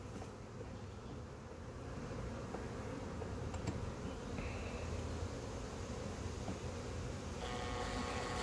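Honeybees buzz around a hive box fitted with a frame feeder, a dense, steady drone filling the air without any talking.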